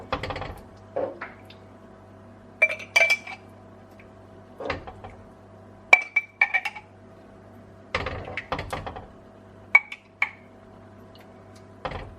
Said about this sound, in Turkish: sıkıca kavanozumu kapatıyorum ve ağzını iyice sıkıyorum